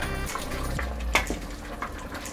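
Water poured into a pot of chicken paprikash with vegetables and tomatoes, a close gurgling, splashing stream with small clinks, continuous and moderately quiet.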